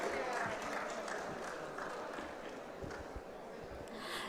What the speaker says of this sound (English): Let's give a huge round of applause to all our sponsors.